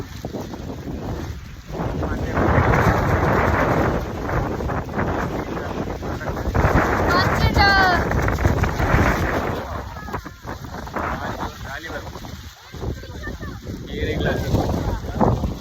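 Gusty wind buffets the microphone in heavy rumbling bursts, with people talking intermittently underneath.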